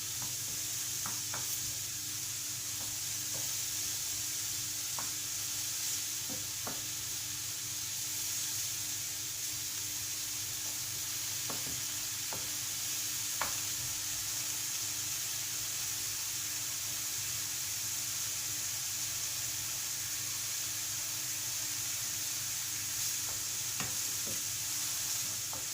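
Mushrooms cooking in a pan before going onto a homemade pizza, a steady sizzle and hiss throughout with occasional sharp clicks and scrapes from stirring, close and continuous with no talking.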